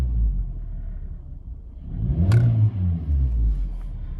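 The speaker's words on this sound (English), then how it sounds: "Give it a little rev." A VW Golf Mk5 engine, after a misfire repair, idles with a low steady rumble, then takes a quick throttle blip that swells into a short rev and settles back to a smooth idle.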